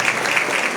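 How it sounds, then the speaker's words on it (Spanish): Audience applause welcoming a woman at an outdoor Spanish-language event on a very windy day, a steady dense patter of clapping that fills the whole brief moment without pause. "Recibe el fuerte aplauso merecido por esta amable."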